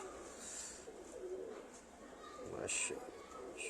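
Soft, low pigeon coos sound a few times in a quiet outdoor setting, with faint chirps and a voice in the background.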